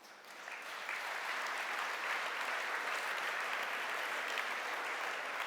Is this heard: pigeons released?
no